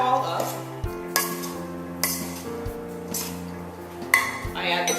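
Salad ingredients with chopped cilantro get mixed in a bowl, producing clinks and scraping knocks of a utensil against the dish in an uneven rhythm, close and moderately loud.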